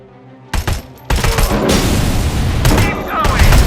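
Heavy cannon fire from a Cobra assault cannon in RoboCop: Rogue City: a loud, sustained barrage of booming blasts and rapid shots that starts abruptly after a short quiet moment and stays dense and forceful, with faint voices underneath.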